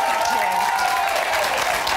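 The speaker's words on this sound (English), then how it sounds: "That deserves a round of applause." A studio audience applauds loudly and continuously on a live eviction show, dense clapping sustained throughout with faint voices underneath.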